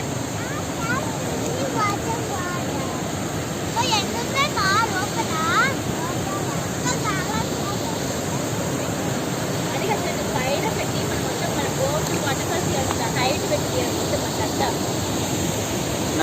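Hogenakkal waterfalls pour with a constant, even roar of water, close and unbroken, while voices talk intermittently over the noise.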